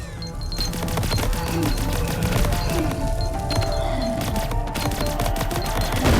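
Rapid automatic weapon fire from a shooter video game, a dense continuous burst of loud cracking shots with metallic clinks, holding steady across the whole stretch with no voice over it.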